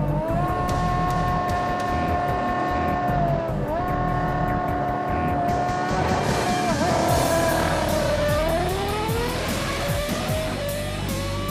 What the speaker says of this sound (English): This time, Button gets a better start and manages to pull away at the halfway point to take the win in 9 seconds